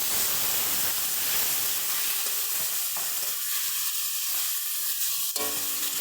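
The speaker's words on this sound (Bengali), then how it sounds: "ভালো করে সমস্ত মশলাগুলোকে আলুর সঙ্গে মিশিয়ে কষিয়ে নেব দিয়ে দিচ্ছি সামান্য পরিমাণে একটু জল" Spiced potatoes frying in a pan with a little water added, a loud steady sizzle and hiss that persists throughout, broken by brief stirring scrapes and a sharp spatter burst near the end.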